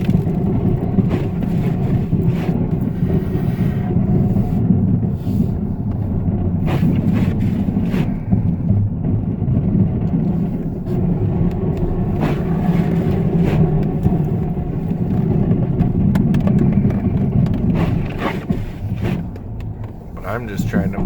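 Pickup truck with a straight blade plowing snow in a parking lot, its engine rumbling steadily throughout with wind noise, while someone talks over it.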